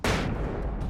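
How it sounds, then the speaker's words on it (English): A flashbang goes off in the video game Alan Wake's American Nightmare, a sudden loud broadband blast that hits at once and leaves a dense, rumbling wash of noise for the rest of the second. "Here, have a flashbang."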